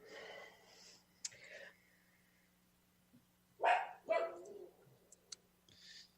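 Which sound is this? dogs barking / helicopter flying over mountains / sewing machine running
dogs barking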